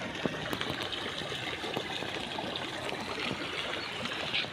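Water runs steadily through a rural canal beside farm fields after a storm, a continuous close trickling and gushing flow with no talk over it.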